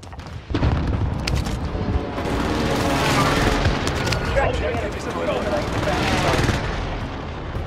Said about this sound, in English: Allied airstrike incoming.